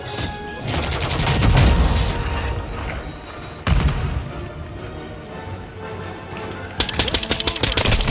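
Rapid automatic MP5 fire in Modern Warfare crackles in dense, loud bursts, pausing briefly and then resuming with sharper, punchier volleys over game background noise.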